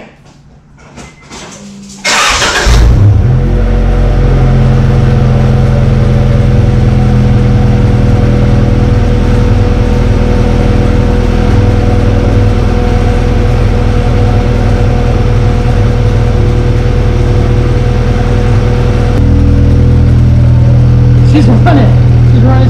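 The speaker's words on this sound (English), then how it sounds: "Start the car." An Acura Integra treated with SeaFoam cranks briefly and starts with a loud burst, then settles into a steady, close idle that drones on for a long stretch. A faint knock or clunk comes near the end.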